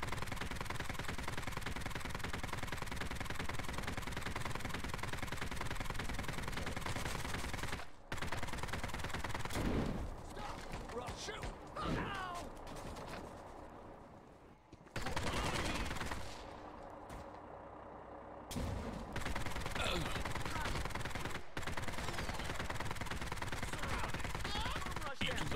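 Gunfire in the 1997 video game Postal: loud, sustained bursts of rapid shots that roar almost continuously, broken by brief pauses and a few quieter gaps.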